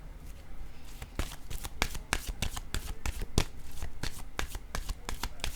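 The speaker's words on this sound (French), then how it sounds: "Je vais déposer une autre carte." Playing cards are shuffled and laid down close up, a steady run of crisp riffling flicks and soft slaps, quiet and continuous.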